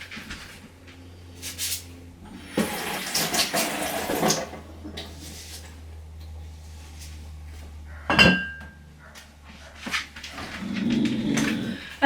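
Kitchen knife being washed, with clinks of metal against dishes and bursts of running water at a sink, plus a sharp clatter partway through.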